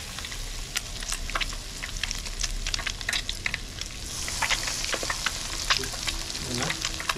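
Tilapia pieces frying in a hot pan give a steady, loud crackling sizzle with dense spattering pops throughout, close up and with no talk over it.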